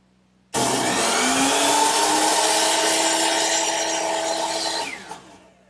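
A saw makes an angled cut through a wooden frame piece, starting suddenly and whining loud and steady for about four and a half seconds before winding down and stopping.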